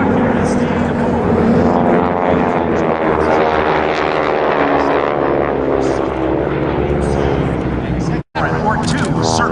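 GEICO Skytypers propeller planes flying at the MCAS Beaufort air show, a loud sustained droning engine roar with shifting pitch as the aircraft pass, with an announcer talking over it.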